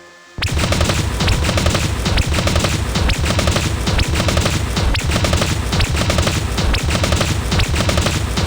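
Sustained machine gun fire from the Dragon Raja video game, rapid continuous bursts loud and close, running steadily throughout without pause or talk.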